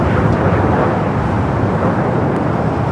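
Jet airliners taxiing at LAX airport, Austrian and Japan Airlines among them, give a loud, steady broadband roar with rumbling low end, continuous and close throughout with no talk over it.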